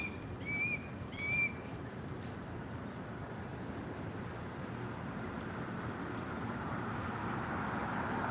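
A bird squawks twice in quick succession near the start, harsh and fairly clear, before fading into a steady low outdoor rumble and hiss.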